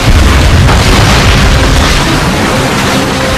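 Artillery explosion in the Stalingrad cutscene of Call of Duty: Finest Hour, heard as a loud, sustained deep boom with rumbling blast noise filling the whole stretch, no voices.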